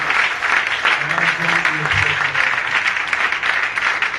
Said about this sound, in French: Peux-tu acclamer le Seigneur une fois de plus?